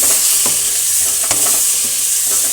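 Nalleru stems roasting in a pan with chana, sesame seeds, urad dal, coriander seeds, fenugreek, cumin and tamarind, a continuous dry sizzle broken by a few close scraping stirs.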